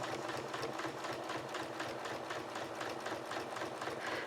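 A sewing machine does free motion quilting along an already stitched line, a steady rapid mechanical chatter of the needle running continuously at close range.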